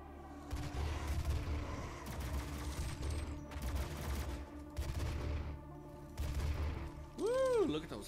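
Rapid, dense weapon fire from the first-person shooter Doom (2016) in the Argent Facility level, with continuous bursts of gunfire and impacts, then a rising electronic warble near the end, faint and distant.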